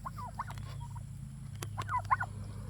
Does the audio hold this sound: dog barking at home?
no